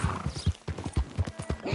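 Horse hooves clip-clop in a quick, even rhythm as a horse gallops in the video game Red Dead Redemption 2, a short, fairly quiet burst with a faint whinny-like tone.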